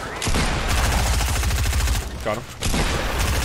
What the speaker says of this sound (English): I thought my shotgun shot hit that guy.